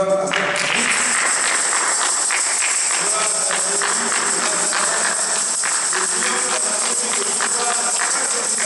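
A church congregation claps for the Lord in steady, dense applause that fills the room, with voices and musical tones running underneath throughout.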